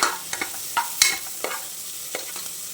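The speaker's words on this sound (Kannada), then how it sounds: "ಈರುಳ್ಳಿ ಬೇಗ ಫ್ರೈ ಆಗಲಿ ಅಂತ ನಾನು ಸ್ವಲ್ಪ ಉಪ್ಪು ಹಾಕಿ ಫ್ರೈ ಮಾಡ್ತಿದ್ದೇನೆ." Onions frying with a little salt in a pan for vegetable pulao give a steady soft sizzle, broken by sharp scraping stirs about once or twice a second, with no talk.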